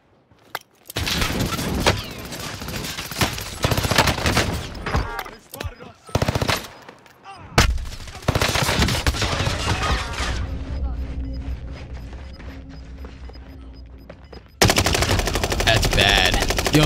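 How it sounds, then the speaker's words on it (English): Loud automatic gunfire from a video game comes in rapid bursts, broken by short pauses and one near-silent gap, with a voice talking now and then between the shots. "Yo, they're shooting my body."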